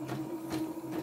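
YOKO portable embroidery machine stitching, a faint steady mechanical hum with three soft rhythmic pulses from the needle action over a short stretch.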